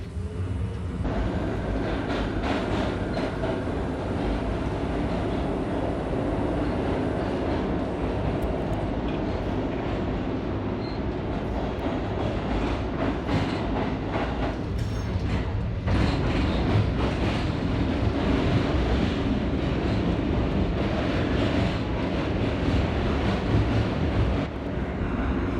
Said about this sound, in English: I want to make you feel like you're actually riding the train.